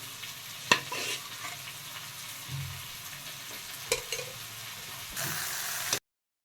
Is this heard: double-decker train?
no